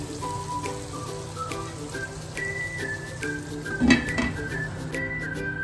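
Chopped tomatoes for chicken pulao sizzle and spatter in a covered pot, a steady crackling hiss under background music with a brief clatter partway through.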